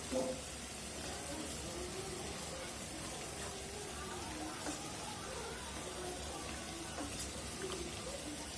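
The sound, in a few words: frying nut and raisin paste in a pan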